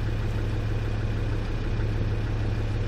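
Land Rover Discovery 2 engine running at idle in a workshop, a steady low, continuous drone with an even rumbling hum and no revving, loud and close.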